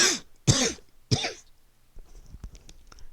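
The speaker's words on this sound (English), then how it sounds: "Excuse me, I'm going to cough." Three loud, close coughs come in quick succession, followed by quieter throat-clearing noises and small clicks.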